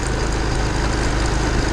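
A motorcycle engine idles close by in a steady, even low rumble, without pause or change in pitch, and no voices over it.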